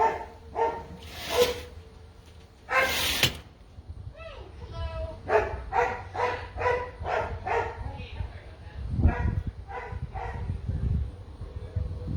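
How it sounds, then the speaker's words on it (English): A dog at home barks in repeated bursts, some loud yips and some quicker runs of barks, close to the listener. A person speaks between the barks. "My dog's going crazy"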